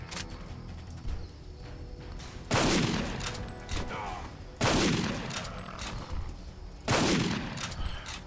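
Three loud gunshot blasts about two seconds apart in the hunting video game Cabela's Dangerous Hunts 2013, each a sharp burst with a long rumbling tail over a low background of game ambience.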